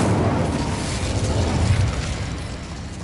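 Fiery Incendio spell blast cast by a player in Hogwarts Legacy on PS5, a dense roaring burst of flame that fills about three seconds at steady loudness.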